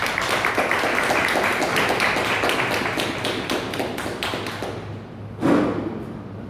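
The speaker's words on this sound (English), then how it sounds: "give our sister a round of applause" An audience at a community talk on Black lives breaks into steady applause, many hands clapping loudly for several seconds before the sound thins out, with a single louder thump near the end.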